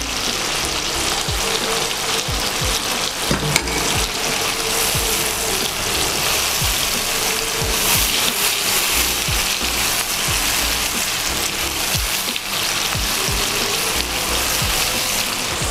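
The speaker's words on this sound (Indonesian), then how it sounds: "Baru kita masukin ikan asin telang yang sudah digoreng tadi." Fried salted telang fish goes into a pan of sweet-and-sour sauce, giving a steady, loud sizzle and bubbling with occasional scraping stirs throughout, with no talking.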